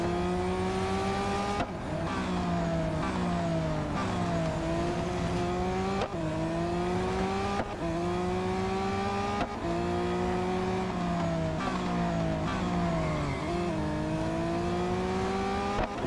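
A Lamborghini in the racing video game Real Racing 3 screams through repeated gear shifts, the engine note climbing and dropping in a loud, steady cycle of revs without pause.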